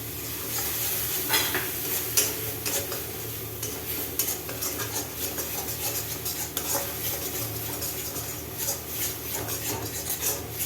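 Turmeric-spiced masala frying in a pan, a steady sizzle under repeated scraping and stirring strokes of a utensil against the pan, close and continuous without speech.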